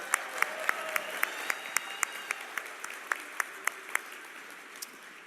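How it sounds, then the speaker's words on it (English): Audience applause at a live session, a soft, steady patter of many hands heard from a distance, with individual claps standing out in a regular rhythm throughout. "Give yourselves a round of applause."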